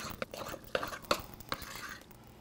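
A spoon stirs flour into sticky sourdough dough in a bowl, giving faint, soft scrapes and a few sharper clicks against the bowl at irregular intervals, fairly quiet and close.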